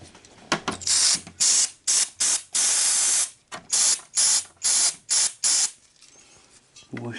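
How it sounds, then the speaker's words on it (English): Cleaner is sprayed into a Daewoo VHS VCR mechanism in a series of loud, close hissing bursts, roughly eight short blasts of varying length separated by brief pauses. "we'll shoot a little cleaner in there just to see if we can get that to free up."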